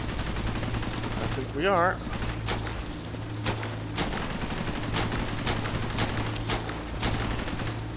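Rapid gunfire in the video game Cepheus Protocol, sharp repeated shots cracking over a constant noisy battle bed, with someone briefly speaking partway through.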